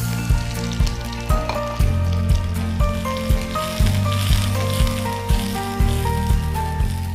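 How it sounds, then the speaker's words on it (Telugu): Sliced onions sizzle steadily in a hot pan during a cooking show, a continuous bright crackle punctuated by regular soft stirring knocks about every half second, close and fairly loud. "ఉల్లిపాయలని ఫ్రై చేసుకుంటున్నాం కదా"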